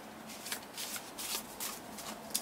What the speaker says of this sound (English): I'm going to give these a shuffle.